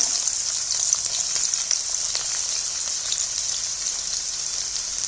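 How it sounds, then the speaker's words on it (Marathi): Bright, crackling sizzle of chopped onions frying in hot oil with cumin and mustard seeds, continuous and close, with no voices. "जिरी मोहरी टाकल्यानंतर आपण कांदा चिरून घेतलेला आहे ना तो ह्याच्यामध्ये टाकून घ्यायचा"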